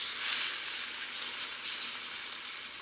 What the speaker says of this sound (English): We're going to sear this other side here.